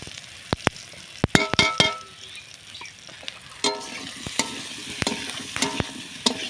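Food frying in a pan with turmeric and salt is stirred, giving a soft steady sizzle broken by sharp, irregular scraping clinks of the spoon against the pan, close and without talk.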